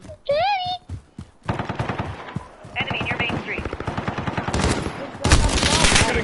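Machine gun fire in Call of Duty Modern Warfare multiplayer: rapid bursts of automatic shots crackling in loud stretches, with game voices and sound effects around them and a longer dense burst near the end.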